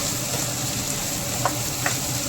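Sliced okra for a dry Maharashtrian bhaji fries in oil in a pan, a loud, close, steady sizzle with a couple of soft stirring scrapes.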